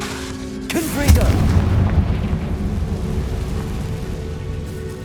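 A Confringo blasting spell goes off in the Hogwarts Legacy video game: one sharp, loud explosive boom followed by a sustained low rumbling roar that slowly fades.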